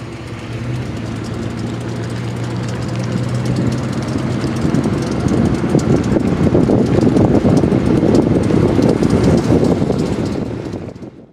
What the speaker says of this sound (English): So that was the sound of the sensor's plug being slapped around by the rotating U-joints